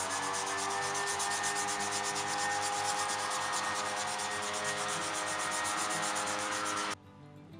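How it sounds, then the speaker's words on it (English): A wooden knife is hand sanded with 400 grit sanding mesh, making continuous close, raspy rubbing strokes in a steady back-and-forth rhythm before stopping abruptly near the end. "I did some final sanding with a 400 grit sanding mesh"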